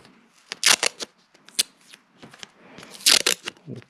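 Scissors cutting pieces off a roll of masking tape, a cluster of loud crisp snips and short tearing rasps coming in two bursts with quieter rustling between them.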